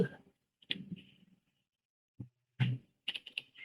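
Keystrokes on a computer keyboard come in short, uneven bursts of clicks between pauses, close and quiet, as a command is typed, with no talking.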